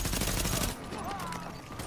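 Gunshots in Tom Clancy's The Division, a loud, dense burst of firing at close range that drops back after the first second into lighter game noise.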